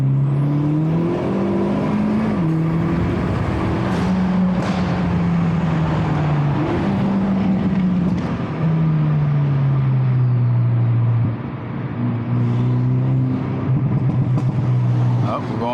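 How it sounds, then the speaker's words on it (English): A Hyundai Elantra N fitted with an AEM water/methanol kit accelerates hard at full throttle, its engine note climbing and dropping through gear changes in a steady, loud drone from inside the car. "Should we get a little bit of a nice full throttle here?"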